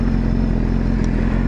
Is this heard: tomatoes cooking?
no